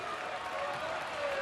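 A crowd at a Washington versus UCLA women's volleyball match applauds and cheers steadily, a dense wash of clapping and voices with a commentator's talk running over it.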